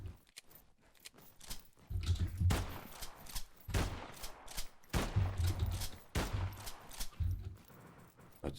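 A shotgun fires in a video game under development, several loud, booming blasts spaced a second or so apart over quiet game ambience.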